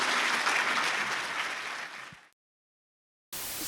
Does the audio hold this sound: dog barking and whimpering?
no